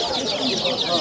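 Young chicks clucking and peeping in a dense, continuous chorus at the Sabunçu poultry market, steady and close, with a voice talking faintly underneath.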